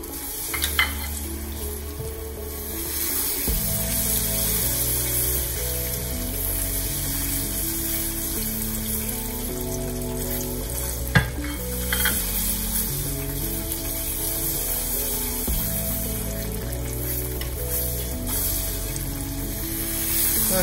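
Burfi mixture with ghee being stirred over low heat, a continuous soft sizzle and scraping alone, with a low steady hum underneath.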